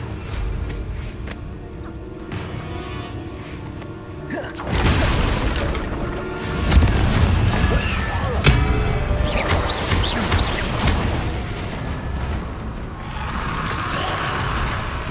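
A Confringo spell explosion in the video game Hogwarts Legacy erupts suddenly after a quieter stretch of game ambience. A loud, booming blast is followed by continuing rumbling crashes and debris.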